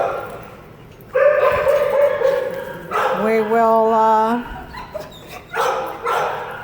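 A dog in an animal shelter kennel barks and yelps in several bursts, close and loud, with whiny tonal yips between, while a person speaks briefly over the kennel noise.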